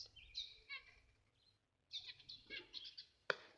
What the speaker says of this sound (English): And there's my other black-throated canary.